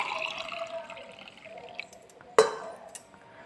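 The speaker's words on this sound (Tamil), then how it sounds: "பிறகு கிளாஸில் ஊற்றிக்கோங்க." Strained mosambi juice poured into a glass, a soft trickling of liquid near the mic followed by a sharp clink of the glass, then quiet.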